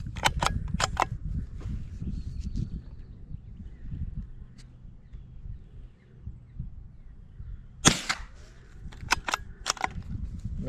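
Sharp rifle shots from a Brno Model 2-E fired at cans outdoors, several close cracks early on, a pause, then another cluster of loud reports, over a low rumbling background.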